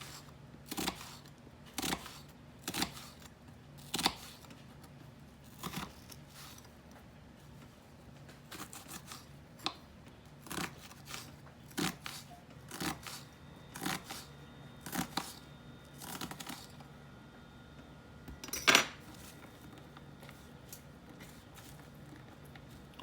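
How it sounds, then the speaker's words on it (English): Knife finely dicing purple onion on a cutting board, with irregular crisp chopping taps that come singly and in quick runs, close but quiet, and no voices. "now we're just going to finely dice up a little bit of purple onion"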